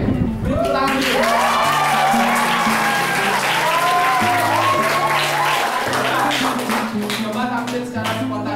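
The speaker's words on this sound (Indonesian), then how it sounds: "Beri tepuk tangan dulu." Classroom applause for a student about to perform a spontaneous drama role, brisk clapping from a small group under music with a steady low beat and melodic tones, sustained throughout.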